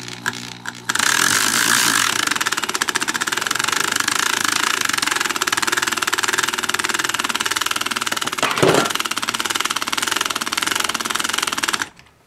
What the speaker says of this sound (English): we're going to let the drill do the work here